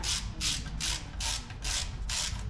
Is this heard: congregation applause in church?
no